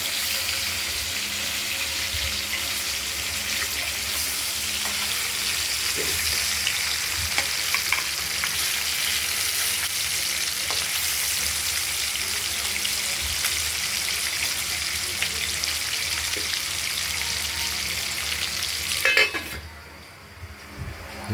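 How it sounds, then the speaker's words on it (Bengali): Catla fish pieces sizzling in hot oil in a pan, a dense continuous frying crackle that runs steadily and cuts off abruptly near the end. "মাছগুলো দিয়ে দিলাম, এবার ভাজা হোক,"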